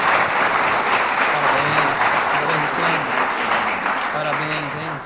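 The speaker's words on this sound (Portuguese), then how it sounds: "Você pode aplaudir Jesus?" A church service congregation applauds in a steady, dense wash of clapping. A voice speaks and calls out over it as it slowly fades near the end.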